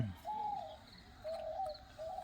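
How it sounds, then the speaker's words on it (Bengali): A dove coos softly in repeated short phrases, faint and distant, against quiet morning ambience at dawn beside foggy rice paddies in a Sundarbans village. "ঘুঘু পাখি ডাকছে।"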